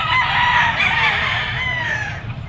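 A two-year-old Gilmore Hatch green-legged gamecock crows loudly and close by in one long, strained call at a crowded rooster market, with a low rumble of crowd and ambient noise underneath.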